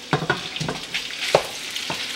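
Venison browns in olive oil in a pan, a close sizzle broken by several quick scrapes and stirs in an irregular rhythm, with no talking.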